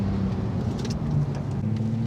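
A Porsche 911 Turbo S of the 992 generation accelerates, its engine a steady, close, loud drone with low harmonic tones that shift in pitch across two seconds, with no talk.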